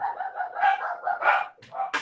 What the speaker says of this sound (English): Oh, you got the dogs going.